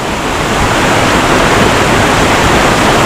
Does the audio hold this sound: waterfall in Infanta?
yes